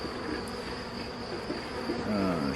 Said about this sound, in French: Donc ça c'est un essaim qui vient de je sais plus où.